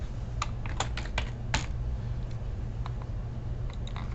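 Keystrokes on a computer keyboard while entering text in FastCAM plasma-cutting software: a quick burst of clicky taps, then scattered lighter presses over a low steady hum.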